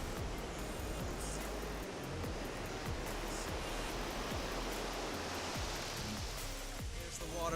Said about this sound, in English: There's the waterfall. It's right behind me, right there.